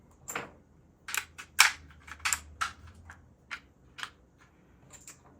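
Cartridges pressed one by one into the fixed magazine of a Dark Storm DS-15 rifle, giving about ten crisp metallic clicks and snaps at irregular intervals, close and fairly quiet, with no talking.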